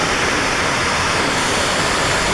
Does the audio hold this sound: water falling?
yes